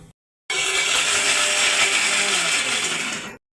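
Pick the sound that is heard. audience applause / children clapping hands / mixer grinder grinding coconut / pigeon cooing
mixer grinder grinding coconut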